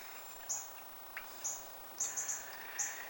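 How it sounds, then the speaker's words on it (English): Short, high bird chirps sound outdoors, about six quick tweets spaced irregularly over a few seconds, fairly close and clear above a faint hiss with no talking. "Probably just birds."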